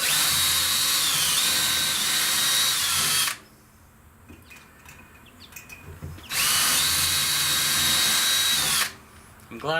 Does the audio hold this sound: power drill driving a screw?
yes